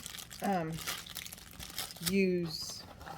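Release paper crinkles and rustles as it is pulled from a cardboard box, in short close bursts, while a person talks over it.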